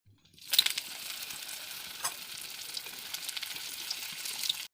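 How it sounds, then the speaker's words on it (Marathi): Sabudana vada sizzling in hot oil, a steady close crackling fry with small pops that starts abruptly after a brief silence and continues alone. "अजून तळायचे बाकी आहे."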